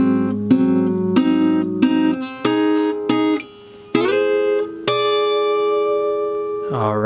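Guitar picks out the lullaby from Coco slowly, one plucked note or chord at a time, each left ringing and overlapping the next, close and clear with no voices.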